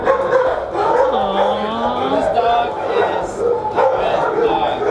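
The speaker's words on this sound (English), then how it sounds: "This is the best dog." Husky–German Shepherd mix puppy barking and yipping in short bursts close by, mixed with whimpers and heard under steady overlapping talk from several people.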